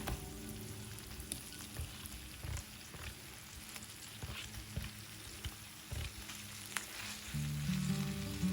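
Tomato pieces frying with onions and curry leaves in a pan, a continuous close crackling sizzle with occasional stirring scrapes, growing louder and denser toward the end.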